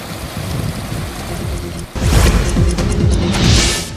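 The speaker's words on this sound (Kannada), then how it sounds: "ಅದರ ಮೇಲಿಂದ ಹಳ್ಳದ ನೀರು ಹರಿದು ಹೋಗ್ತಾ ಇದೆ" Stream floodwater rushes over a temporary bridge beside the Dharwad–Savadatti road, a steady, loud, broadband roar that grows stronger after about two seconds, with no voices.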